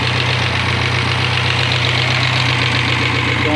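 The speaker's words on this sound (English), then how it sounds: "it's idling nice." A small Mini car engine, vapor-fed and just brought back to life, idles steadily up close with an even, continuous rumble and light knocking pulse throughout, no voices.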